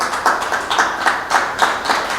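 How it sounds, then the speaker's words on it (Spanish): A church congregation claps together in a quick, steady rhythm, with crisp repeated hand claps close and fairly loud and no voices over them. "dele ese aplauso con todo su corazón"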